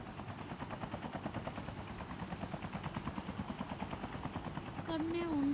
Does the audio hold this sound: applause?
no